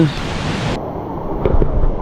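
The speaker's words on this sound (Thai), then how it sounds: "ตอนนี้เราอยู่ตรงน้ำตกเจ็ดคดกลางนะ" A waterfall on a forest hiking trail in Thailand, heard as a steady, loud broadband rush of falling water that fills the clip, with a brief change partway through and no talk.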